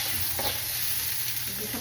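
Garlic and onion sautéing in a hot pan with organ meats nearby, a steady bright sizzle close up with a soft stir scraping briefly through it.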